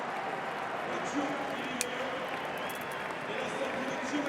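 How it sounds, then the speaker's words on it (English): A rugby stadium crowd cheering as a substitute comes on in a French Top 14 match, a broad distant roar with scattered applause holding steady throughout. "Big cheer from the crowd for Makalou."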